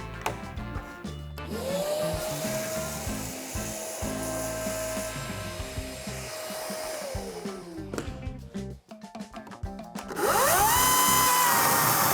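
A Dnipro-M DCS-200BC battery saw cutting wood, its motor spinning up to a steady loud whine under a rough cutting roar, then stopping, before starting and spinning up again toward the end.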